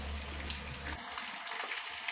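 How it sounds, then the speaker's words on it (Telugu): Tempering of garlic, mustard seeds, urad dal, cumin, curry leaves and dried chilies frying in oil on low heat, a soft close sizzle with a background hum that drops away partway through. "మనం తాలింపు అనేది వేయించుకోవాలి"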